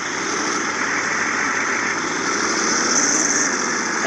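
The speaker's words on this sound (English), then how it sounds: "I left the truck running." Engine of a second-generation truck left running at idle, a steady, even rumble at close range with no voices over it.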